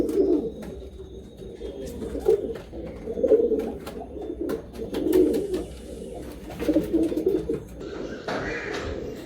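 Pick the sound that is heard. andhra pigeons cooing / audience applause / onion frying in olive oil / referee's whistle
andhra pigeons cooing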